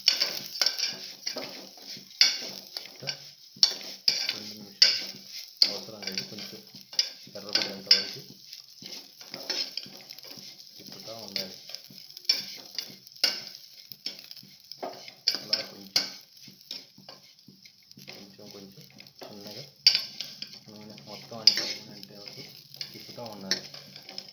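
A ladle stirs cashews in a pot of sugar-free payasam, giving steady scraping and clinking against the metal with a soft sizzle underneath, close and continuous over the whole stretch.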